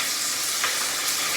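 Chopped onion fries in a pan with a brief, steady, close-up sizzle.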